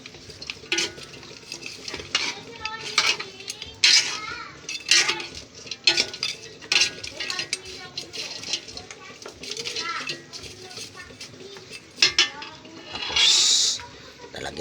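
Spoon stirring a coconut milk dish with dried fish in a metal pot, repeated scraping and clanking against the pot, close, with someone talking and children's voices in the background.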